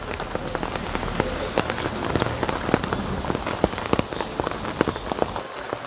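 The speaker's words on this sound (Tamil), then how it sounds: "மழை இருக்குது பார்த்தீங்களா" Rain falls steadily in a home garden with potted plants, a dense, continuous patter of drops with sharp individual splashes standing out close by.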